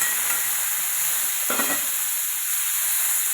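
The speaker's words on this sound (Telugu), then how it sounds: "దాంట్లో ఆయిల్ వేసుకొని కొంచెం లైట్గా ఇప్పుడు ఆనియన్స్, టమాటాలు ఒకటేసారి ఫ్రై చేసుకున్నామండి" A steady, loud sizzle of onions and tomatoes frying in oil, with one brief scrape of stirring partway through.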